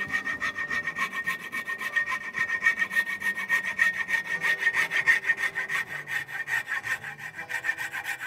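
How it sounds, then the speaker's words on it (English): A hand saw cuts steadily through the wooden remains inside a double-bit axe head's eye, close up, with a fast, even back-and-forth rasping rhythm that continues throughout. "I don't wanna scratch up the eye with my saw"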